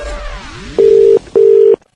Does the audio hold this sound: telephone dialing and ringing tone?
yes